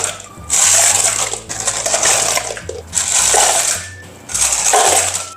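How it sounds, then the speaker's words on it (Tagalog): Ice cubes are dropped into a plastic cup for a sticky milk drink, loud rattling clatters arriving in several bursts of crunching and clinking, close up with no talk. "And then next ay maglagay tayo ng yelo."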